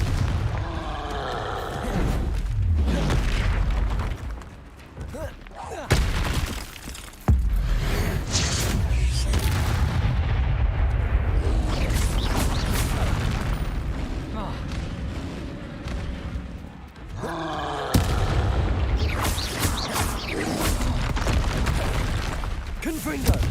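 The Confringo fire spell in Hogwarts Legacy sets off several heavy booming blasts, spaced across the stretch amid rumbling game noise, with a voice speaking over it.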